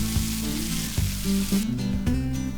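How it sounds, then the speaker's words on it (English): Curry leaves and boiled crushed potatoes sizzle and fry in a pan with soft tomatoes, a loud close crackle broken by scraping stirs and clinks from a utensil. "Then add about 20 curry leaves and fry this for about a minute."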